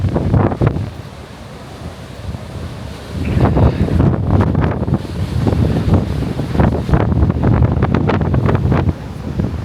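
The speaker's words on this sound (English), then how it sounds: "This is the wild Atlantic Ocean." Strong wind buffets the microphone beside the surf of the wild Atlantic Ocean on the Moroccan coast near Essaouira, a loud continuous roar with gusting bursts and crashing waves and no voices.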